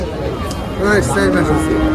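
A four-month-old calf at a cattle market moos nearby in a drawn-out, wavering call that rises and falls, with murmuring voices in the background.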